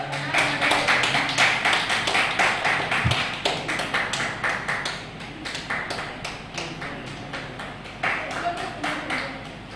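Audience clapping at an honoring ceremony with a shawl presentation, an uneven run of distinct close claps that rises and falls in bursts, with occasional thumps and a voice speaking over it.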